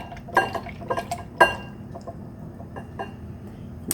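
A spoon stirs homemade almond milk in a container, with light clinks against the side, a couple of sharper taps, then soft swishing, close and fairly quiet.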